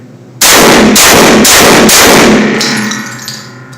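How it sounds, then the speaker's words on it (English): Benelli M2 tactical shotgun firing Federal 1 ounce loads outdoors, four loud, close shots in quick even succession, each cracking hard, followed by a fading echo. "I'll show you I can run a tube through this thing with no problem. So I'll go ahead and shoot it."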